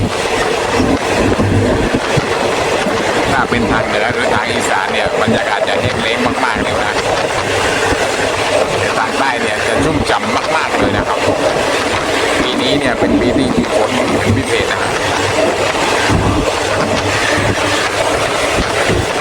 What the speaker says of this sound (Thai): ตอนนี้เดินทางออกจากสถานีรถไฟ